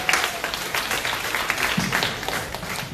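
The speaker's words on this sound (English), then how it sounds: "Group number 4, please clap your hands for them." Applause from an entrepreneurship bootcamp audience for a presenting group, a steady wash of many hands clapping at moderate loudness throughout.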